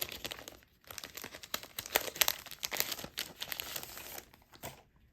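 Crinkly plastic and paper rustling as a small pack from a bird-theme junk journal kit is torn open and handled, with irregular crackling bursts close by.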